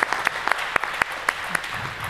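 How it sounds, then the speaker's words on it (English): Audience applause for volunteers at a hacker camp talk, scattered individual claps standing out sharply over a brief, thin round of clapping. "give them a big applause for all the volunteers and the angels"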